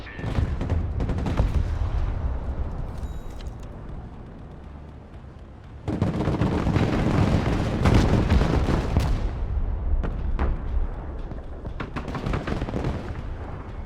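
Explosions and artillery fire fill the video game Broken Arrow in a Baltiysk invasion scenario: repeated heavy blasts and rattling gunfire keep up without a break, swell into a denser, louder barrage halfway through, then carry on steadily.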